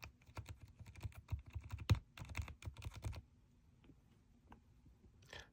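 Typing on a mechanical keyboard fitted with silent tactile switches, a quiet near run of soft muted keystrokes for about three seconds, then a few scattered taps.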